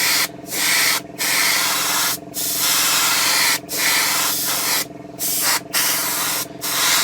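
Aerosol can spraying black primer onto a 1/35 scale Takom Chieftain Mk10 tank model in short repeated bursts, each hiss lasting about a second with brief pauses between, close and loud with no talking.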